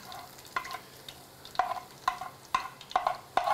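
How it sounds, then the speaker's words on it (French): Garlic frying in a pan: a soft sizzle under a regular series of short scraping stirs, about seven strokes in quick succession, close and clear. "mon ail commence à être grillé"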